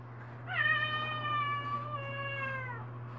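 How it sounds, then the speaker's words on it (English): A single drawn-out meow from a house cat, clear and fairly close, rising and then sliding down over about two seconds above a steady low hum, with no talking. "And that is my cat."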